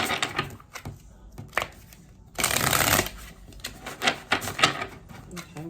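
Oracle cards being shuffled and handled, a run of quick papery riffles and flicks with one long dense shuffle burst in the middle, close and fairly quiet, no talking.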